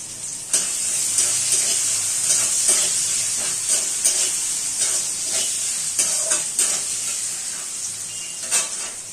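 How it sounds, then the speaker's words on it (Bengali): Vegetables including potato, beans and peas frying in hot oil in a kadai, a steady loud sizzle with occasional stirring scrapes and no talk. "এবার ওই তেলের মধ্যে আমি সমস্ত সবজিগুলো একটু ভেজে নেব।"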